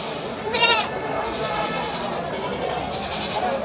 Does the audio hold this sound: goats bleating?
yes